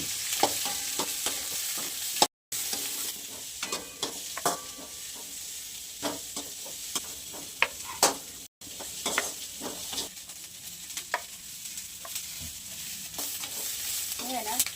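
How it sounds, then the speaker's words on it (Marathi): Chopped onion and capsicum fry in a pan with a steady sizzle, broken by repeated scraping and stirring of a spatula at close range, with no talk over it. "थोडंसं आता फ्राय करून घेणार कांदा आणि शिमला मिरची."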